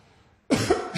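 A woman coughs once sharply from close by after a moment of near silence, followed by a fainter second burst, as part of a seated pelvic floor exercise on a ball.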